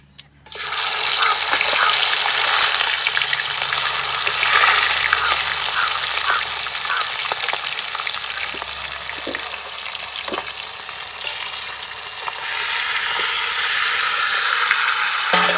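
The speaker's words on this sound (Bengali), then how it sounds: "এবার মাংসটাকে এভাবে ভালো করে নেড়েচেড়ে কষিয়ে নিতে হবে" Whole country duck meat frying in a pan after a cumin tempering, a loud, dense sizzle running throughout with scattered scraping and stirring knocks, close up and with no voices.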